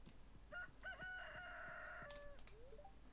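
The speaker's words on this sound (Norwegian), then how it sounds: "Jeg har hørt en hane i alle fall." A rooster crows in Stardew Valley, a single drawn-out cock-a-doodle-doo with a few short clucks before it, faint and alone.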